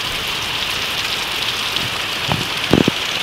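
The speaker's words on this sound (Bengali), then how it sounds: "খুব বৃষ্টি পড়ছে খুব।" Heavy rain pours during a cyclone storm with big drops, making a dense, continuous hiss, and a few louder nearby splashes or thuds land toward the end.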